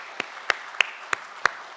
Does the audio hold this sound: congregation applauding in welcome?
yes